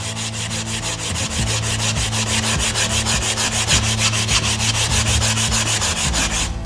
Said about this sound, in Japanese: 板にですね、サンドペーパーを貼り付けてもらって、これでできるだけ木目に沿って